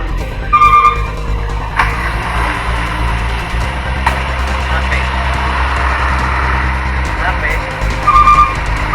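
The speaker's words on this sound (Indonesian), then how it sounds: "iya ada mobil kecil lewat" A small car passes along a badly damaged village road in Desa Beringin Makmur II, Muratara. A loud, continuous engine rumble is broken by rattles and sharp clunks as the vehicle bumps over the rough surface.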